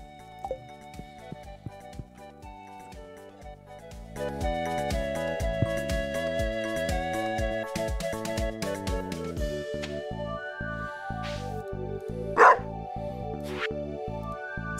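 Dog in Stardew Valley: a single sharp bark rises briefly above cheerful looping game music, with softer plucked notes throughout.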